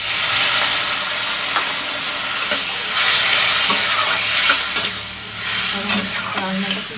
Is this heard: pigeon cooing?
no